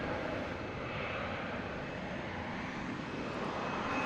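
A Polar Air Cargo DHL Boeing 767 lands at DFW Airport, its engines making a broad, steady roar that stays constant and fairly loud throughout.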